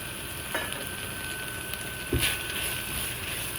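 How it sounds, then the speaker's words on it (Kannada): Onion, ginger garlic paste and cashews frying for bagara rice, a soft steady sizzle with a couple of brief stirring knocks against the pan, fairly faint and without talk. "ಈರುಳ್ಳಿ ಇನ್ನೊಂದು ಸ್ವಲ್ಪ ಫ್ರೈ ಆಗಲಿ."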